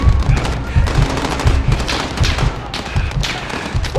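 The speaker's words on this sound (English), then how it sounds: "We're taking fire from the residence." Dense gunfire fills a Call of Duty Modern Warfare 2019 embassy mission, with rapid overlapping automatic bursts and thudding shots that sound loud and continuous throughout.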